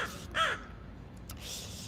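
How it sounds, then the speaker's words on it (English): Crows caw outdoors, a single clear caw followed by fainter calls in the distance, with no talk. "We have lots of crows around here."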